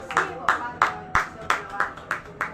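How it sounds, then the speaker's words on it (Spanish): Congregation in a church clapping together in a steady unison rhythm, about three claps per second, with voices and music running underneath. "denle aplauso al Rey esta mañana"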